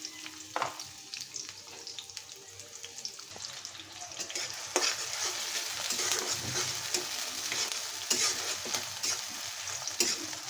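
Chopped onion goes into hot oil for a small-fish chachchari, and a continuous sizzle swells louder partway through, marked by scattered utensil taps and clinks, with no one speaking.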